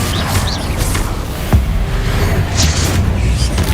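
A Confringo blast spell fired in Hogwarts Legacy while fighting inferi, a loud mechanical creaking rush with one sharp booming hit at mid-point over a dense, rumbling game soundscape.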